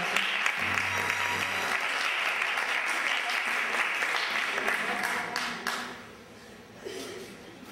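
Loud, steady applause from an audience at a graduation ceremony, sustained for several seconds before thinning slightly near the end, with a voice talking beneath it.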